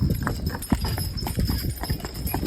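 A young team of Belgian draft horses in D-ring harness clip-clops down a steep road, hooves striking in a quick, steady rhythm, close and fairly loud, with no talking.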